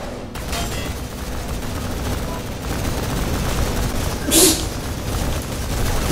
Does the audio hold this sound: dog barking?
no